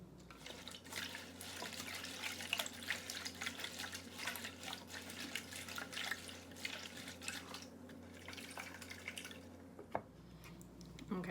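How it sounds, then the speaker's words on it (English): Lettuce is swished around in water to wash off dirt, producing a continuous soft splashing and trickling with small drips, faint and close. "I'm gonna swish it around, try to get all the dirt off"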